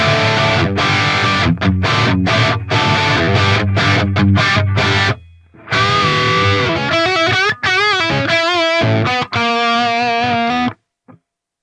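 Heavily distorted electric guitar through a Fractal Axe-FX II, played dry and loud without reverb, chugging chords followed by sustained bent notes, with short gaps and a sudden stop.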